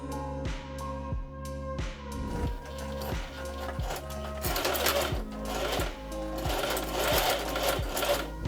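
A sewing machine re-stitches the hem of an altered summer dress, running in a fast mechanical chatter with short rhythmic bursts and brief pauses, close up with no talk.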